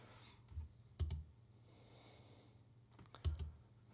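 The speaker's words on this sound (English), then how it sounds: "Oh, my spacebar not working." Computer keyboard spacebar being pressed a few times: faint, close plastic clicks in two small clusters over a quiet room hum.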